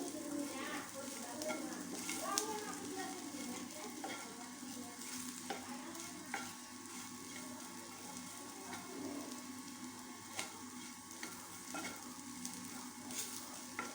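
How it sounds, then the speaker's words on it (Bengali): Bitter gourd and potato pieces fry in a pan, giving a soft, steady sizzle. Occasional light stirring scrapes break the sizzle, and the whole sound stays faint and close. "আমার উচ্ছে আলুগুলি ভাজা ভাজা হয়ে গেছে।"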